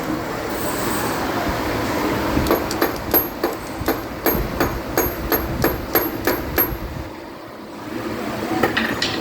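A hammer tapping a stuck car AC compressor: a steady series of about a dozen sharp metallic taps at a regular rhythm, close by, over a constant background hum of the workshop.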